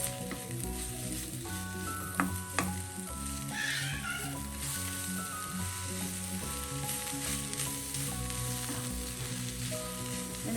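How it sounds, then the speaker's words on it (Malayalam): Drumstick leaves are stirred into a ground paste in a frying pan for a green gram thoran: a loud, continuous close sizzle with soft stirring scrapes and a couple of light clinks, no voices. "വൃത്തിയാക്കി വെച്ചിരിക്കുന്ന മുരിങ്ങയില ചേർക്കാം. ഇതോടൊപ്പം ഒന്ന് മിക്സ് ചെയ്യും."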